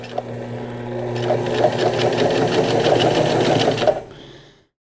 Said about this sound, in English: Now I just sew a nice curve